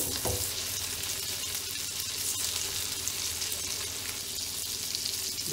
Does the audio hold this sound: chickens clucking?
no